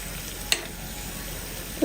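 Banana and wheat flour snack frying in a pool of oil, a steady soft sizzle throughout with a brief sharp crackle near the middle and a louder burst at the end.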